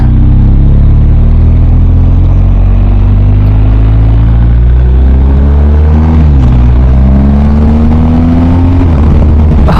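A BMW R 1250 GS motorcycle accelerates hard, its engine note climbing and then dipping briefly at quick-shifter upshifts before rising again, loud and close with heavy wind rush.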